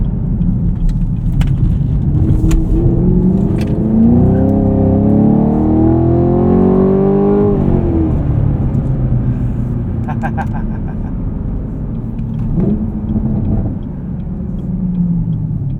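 A 2023 Chevrolet Camaro SS 1LE V8 engine rumbles and revs up, then settles, with sharp exhaust pops and crackling burbles breaking through near the end.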